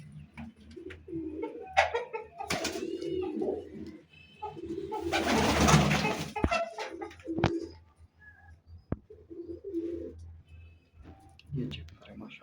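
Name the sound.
pigeons cooing in a pigeon loft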